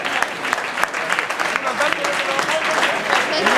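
A stadium crowd applauds as Celta legends and football stars are introduced, steady massed clapping with an announcer's voice over it.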